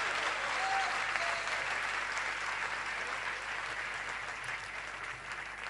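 Audience at a Jain religious gathering clapping with hands raised, a dense continuous wash of applause that holds steady and tapers slightly toward the end.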